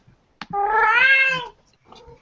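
A cat gives one long, clear, drawn-out meow lasting about a second, close and loud, then a fainter short trailing sound, with no talking.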